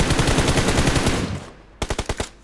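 M4 rifle gunfire in the BGMI video game, a rapid automatic burst of loud close shots followed by a brief pause and a second shorter burst of about five rounds.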